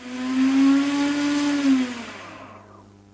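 Several small electric motors run from a single shared ESC, giving a steady buzzing whine that swells, holds for a couple of seconds, then winds down and fades to near silence.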